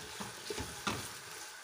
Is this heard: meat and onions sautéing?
yes